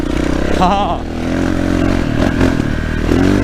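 A Yamaha 450 YZF four-stroke dirt bike roars close by while ridden, its engine revving and rising over clattering and scraping from the terrain, with a rider's voice mixed in.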